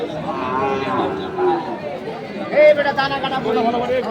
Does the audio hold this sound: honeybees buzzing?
no